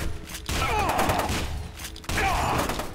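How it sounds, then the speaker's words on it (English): Heavy gunfire from F.E.A.R. 2: Project Origin, with two loud bursts of shotgun-like blasts and broadband crackle, the second starting near the two-second mark, all close and dense with no talk. "with the shotgun, you don't even really have to aim. You just hip fire."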